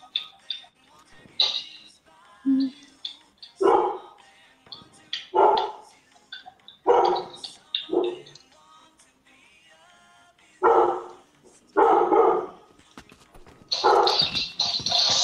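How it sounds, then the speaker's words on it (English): A pet dog barks repeatedly in loud, spaced bursts near a Fortnite game session, with brief yips between barks and a voice talking faintly underneath. "Sorry, it's my doggy woggy. She won't shut up."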